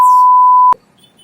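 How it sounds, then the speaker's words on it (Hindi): A steady, loud censor beep holds a single pure tone for under a second, then cuts off abruptly with a click into near silence. "बीप।"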